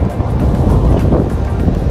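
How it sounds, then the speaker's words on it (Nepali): Wind buffets hard against the microphone in a loud, continuous rumbling roar at an Abu Dhabi beach, steady throughout with no voices. "समुद्रतिरको हावा यता आइरह त्यही पनि शीतल छ"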